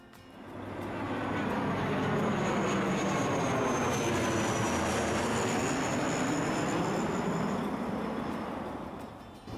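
An airplane passes overhead, its broad roaring rumble swelling in, holding steady for several seconds, then beginning to ease, with a faint high whine running through it.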